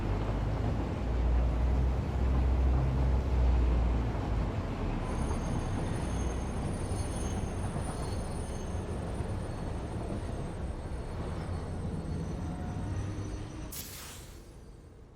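A train in the video game Satisfactory rolls along its tracks, a steady low rumble with a faint high whine that carries on throughout and thins toward the end.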